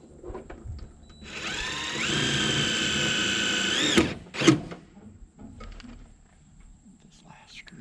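Power drill driving a screw into a plastic gutter cover while working high on a lift, a steady whirring run of about three seconds that rises in pitch, followed by a couple of sharp knocks and quiet rustling.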